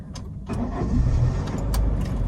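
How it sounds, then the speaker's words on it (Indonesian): A Honda Brio with a manual gearbox is started: a quick key jingle and click, then the engine cranks and catches into a close, steady idle. "sekarang mati mesin, injak kopling full, baru di start"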